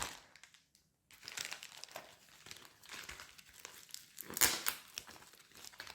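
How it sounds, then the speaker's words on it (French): Close-up crinkling and crackling of packing tape being peeled off a parcel and packaging handled, in irregular bursts after a brief silence. "Pas évident les scotch comme ça."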